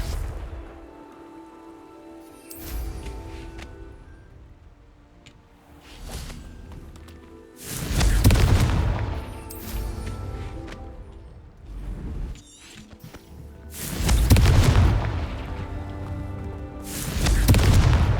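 Confringo fire spells burst in Hogwarts Legacy combat, several loud booming explosions spaced through the scene with rumbling low impacts and quieter game ambience between blasts.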